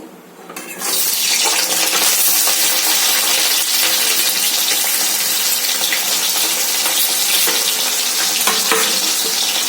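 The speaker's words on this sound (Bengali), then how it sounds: "পেঁয়াজ আর কাঁচা লঙ্কা ভালো করে ভেজে নেবো।" Onions and green chillies hitting hot oil in a pan, a sudden loud sizzle that settles into steady, close frying crackle with occasional spatula taps.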